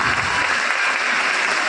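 Steady, dense applause from an audience fills the Raja Annamalai Chettiar Hall, a loud, even clapping wash that holds throughout.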